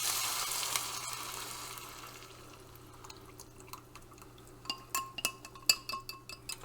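Milk and flour mixture poured over cooked chicken in a hot pan, a steady loud sizzle that fades down, followed by scattered clinks of a utensil against the pan.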